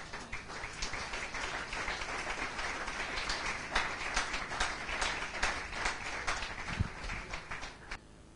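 A church congregation applauds for several seconds, a moderately faint, continuous rattle of many clapping hands that swells slightly midway before tapering off.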